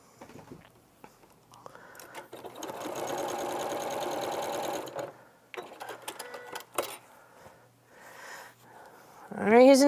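An Elna sewing machine, made by Janome, stitches a row of a scrappy quilt in a steady whirring burst of about three seconds, then in shorter stop-start runs, with people talking briefly between them.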